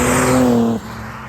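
A 500HP V6 Vauxhall Adam VXR holds a loud, close engine note for under a second, then the revs drop sharply and it fades to a lower rumble.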